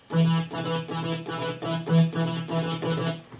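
A Novation Supernova synth lead pulsing in steady repeated notes, bright and buzzy, playing alone at moderate loudness with a regular rhythmic pulse.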